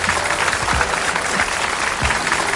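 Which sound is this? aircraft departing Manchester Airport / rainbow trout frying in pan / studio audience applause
studio audience applause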